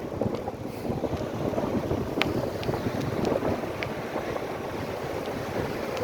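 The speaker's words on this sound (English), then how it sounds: "Wind blowing." Wind buffets the microphone at a Fort Myers Beach shoreline, a steady broad roar with gusty swells, a few faint distant clicks scattered on top.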